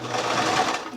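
A sewing machine runs steadily as it stitches fabric for a doll's costume gown, a continuous close whirring hum with a brief dip near the end.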